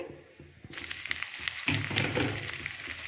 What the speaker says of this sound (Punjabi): ਇਸ ਨੂੰ ਚਟਨੀ ਦੀ ਤਰ੍ਹਾਂ ਭੁੰਨਾਂਗੇ ਆਪਾਂ ਤਾਂ ਕਿ ਮਿਰਚਾਂ ਦਾ ਕੱਚਾਪਨ ਨਿਕਲ ਜਾਵੇ